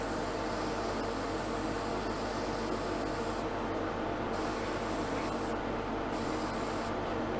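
Steady hiss of a spray gun laying even, light coats of paint on a Jaguar E-Type part, continuous and close with brief dips in the high hiss as the trigger eases.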